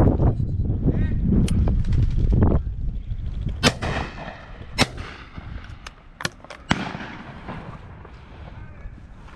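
Sharp shotgun reports ring out at a driven pheasant shoot on a beaters' day, several separate loud bangs spaced irregularly, following a stretch of outdoor commotion and voices early on.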